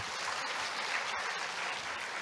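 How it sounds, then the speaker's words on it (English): Audience applause fills the opening ceremony of the 2025 Chungcheongnam-do Carbon Neutrality International Conference: a steady, dense wash of many hands clapping at once, even and sustained throughout with no talking over it. "please welcome him with a big round of applause"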